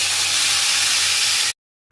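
Water poured into a hot pan of sautéed paste and spices for thuthuvalai soup erupts into a loud, steady hiss of steam up close, then cuts off abruptly.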